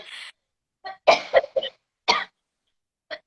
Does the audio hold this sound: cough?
yes